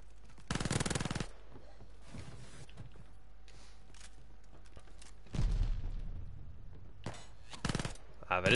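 Rifle fire crackles in Call of Duty Vanguard, with several short, loud bursts of automatic shots separated by pauses and quieter game ambience, with someone talking between the volleys.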